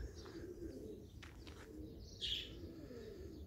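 A domestic pigeon coos faintly outdoors near its loft, one soft, brief call against a low, steady background hum.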